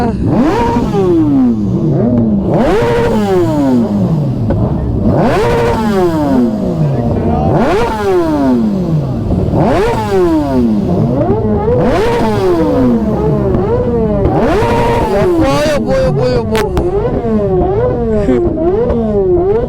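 A motorcycle engine revved hard in repeated throttle blips, each surge climbing and falling in a steady rhythm, loud and close, with a few people talking over it.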